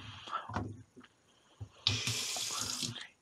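A tap in a glamping cabin at a Russian River campground turns on and water runs steadily for over a second, following some quiet handling noises and clunks nearby.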